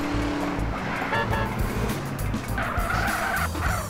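Car skidding in the video game GTA San Andreas, with tires squealing and scraping over a rumbling engine, a rising squeal near the end, loud and continuous for about four seconds.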